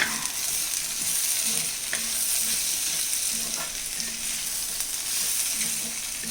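Chinese potato (koorka) stir-fry with chilli flakes and pepper sizzles steadily in the pan while a spatula stirs with soft rhythmic scrapes; no speech.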